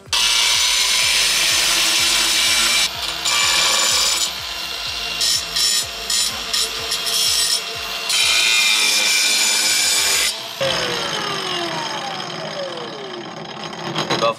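A diamond disc grinds through thick slate with a loud, harsh, continuous cutting whine, broken by short pauses and changes in pitch as the blade bites, then slowing down at the end.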